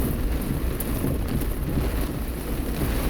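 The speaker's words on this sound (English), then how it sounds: "this is the kind of rain that will really cool a day off" Heavy storm rain drums steadily on a car while driving, a dense continuous roar with low rumble and no breaks, loud and close throughout.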